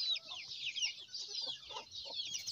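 A hen on a farm on a hot day, soft low clucks repeating faintly beneath a constant high chorus of chirping birds or insects.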